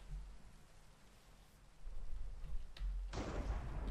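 Thunderstorm in the Minecraft video game, with steady hiss of rain throughout and a loud rumbling thunder burst rising near the end.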